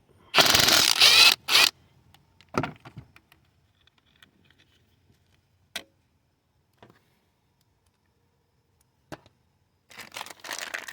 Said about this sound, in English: So I'm gonna remove the nut.